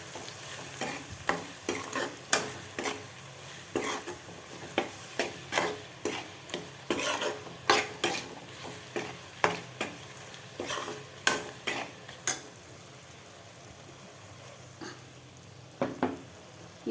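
Chili masala paste frying in oil in a pan for kathirikai sundal kuzhambu, a soft background sizzle broken by frequent sharp scrapes and taps of a spoon against the pan, quieter toward the end.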